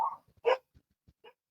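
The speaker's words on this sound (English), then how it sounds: "Can you hear my dogs?" Dogs barking indoors in a few short, separate barks, one louder bark in the middle and quieter ones around it, fairly close and with no talk over them.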